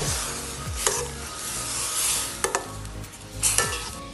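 Ground coconut and masala roasting in a pan for spicy cauliflower bhuthi, a continuous close sizzle broken by a few sharp stirring scrapes against the metal.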